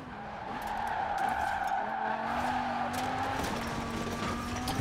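A car in the Forza Horizon 4 racing game skids with a sustained tire squeal over a steady engine drone, loud and continuous throughout, with no talking.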